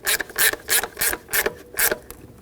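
Short bursts of a 10mm ratchet clicking as mounting nuts are snugged onto studs during an oil pressure sender replacement on a 2008-2020 Dodge Grand Caravan 3.6L, six quick rhythmic ratcheting strokes, close and fairly loud with no talk.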